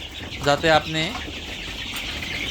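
Egyptian Fayoumi chickens, about six weeks old, give a few short clucks close by over a constant farmyard hum, with no talk in between.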